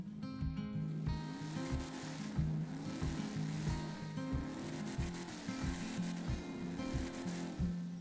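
A 1970 Dodge Charger General Lee fitted with a supercharger blower revs hard at full throttle, a deep engine roar rising and falling in repeated pulses, loud and close throughout.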